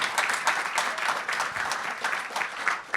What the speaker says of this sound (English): Let's give Gabe a round of applause